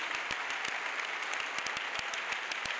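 Worshippers at an evangelistic crusade clap louder for Jesus Christ, a dense, continuous applause with sharp individual claps standing out near the front.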